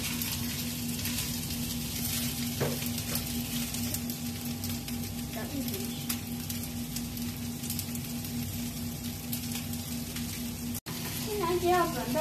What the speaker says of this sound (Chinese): 现在就要加葱了，倒进去， 再继续炒一炒。